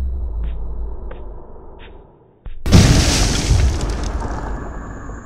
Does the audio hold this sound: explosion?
yes